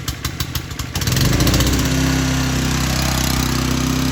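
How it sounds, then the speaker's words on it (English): A Holmatro Duo petrol pump engine for hydraulic rescue tools is pull-started, a few rapid chugging pulses catching into a steady, loud, close running drone that settles into an even idle. "Okay, we're going to start the pump."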